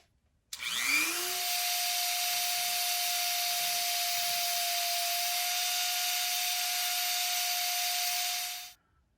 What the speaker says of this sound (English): now I have to very carefully bore down that line all the way through both of these pieces with the Dremel